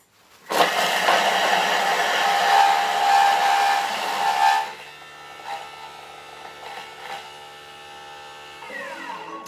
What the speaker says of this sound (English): this is gonna chop it up for 8 seconds, so speed 7